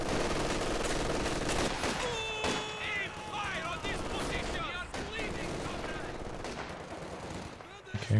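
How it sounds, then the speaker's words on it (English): Machine gun fire in the World War II strategy game Company of Heroes 2 during a 1v1 match, sustained rattling bursts with heavy explosions and battle noise, loud throughout while a commentator talks over it. "getting focused down by the machine gun quite nicely"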